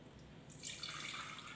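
Tamarind juice pours through a sieve into a jar in a steady stream, starting quietly and becoming a fuller splashing trickle after a moment.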